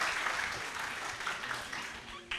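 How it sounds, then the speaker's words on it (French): Audience in a community hall applauding an imam who serves on a competition jury: a full, steady wash of many hands clapping, loud and close, tapering slightly before a final burst. "on peut l'applaudir encore très très fort"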